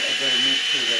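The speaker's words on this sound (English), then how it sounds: "that fucking drill's going so slow" A slow-running electric drill whines steadily and closely, its motor tone wavering slightly under load for about a second.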